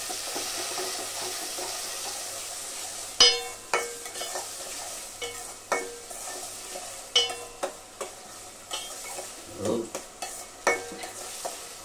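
Salted eggplant bhaji with tomatoes and onions cooks in a pan, with soft stirring scrapes, clinks and a low sizzle at close range, accented by irregular louder knocks of the spoon against the pan.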